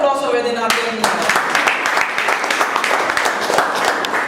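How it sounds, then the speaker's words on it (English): Audience at a debate breaks into loud, sustained applause with dense clapping that starts right after a voice and continues steadily to the end. "A round of applause for Vedinathan."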